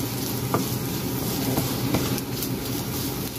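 Garlic frying in a pan for ham and egg fried rice gives a steady close sizzle with a few faint scraping stirs, no voices.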